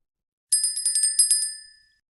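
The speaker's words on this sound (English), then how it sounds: "Play sound for executions." A bright bell-like alert from a futures day-trading platform marks an order execution, a quick cluster of about eight rapid metallic rings that fades out within about a second and a half.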